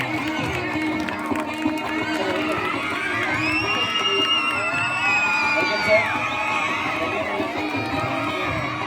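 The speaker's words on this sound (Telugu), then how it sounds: "చప్పట్లు కొట్టి" An audience at a school stage function cheers and claps for a headmaster, a dense, continuous crowd roar with shouting children's voices and whoops layered over a steady hum of noise.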